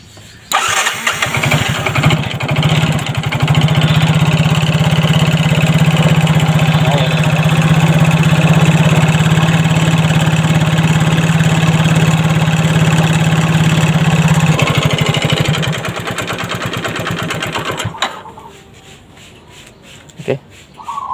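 A Yamaha Mio J scooter engine, just fitted with a new spark plug, cranks and fires up, then runs at a loud, steady idle for about fifteen seconds before cutting out, leaving a quiet tail with faint clicks.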